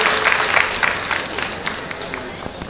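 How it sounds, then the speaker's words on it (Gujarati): An audience applauds at a retirement ceremony for a bus conductor at the Vadnagar ST depot, a short burst of mid-distance clapping from a crowd with a voice briefly over it. "એક વખત જોરદાર તાળીઓથી"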